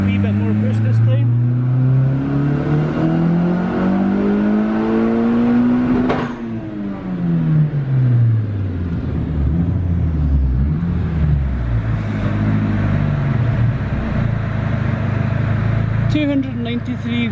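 A turbocharged Honda Civic fitted with a Pulsar G25-550 turbo makes a loud dyno pull with more boost: the engine note climbs steadily in pitch, then drops and settles into a rough, wavering roar.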